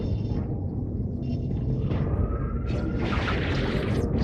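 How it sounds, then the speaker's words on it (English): A seismic blast booms in the video game Amazing Spider-Man 2, a loud deep rumble sustained for several seconds that swells near the end. "more of a seismic blast, really"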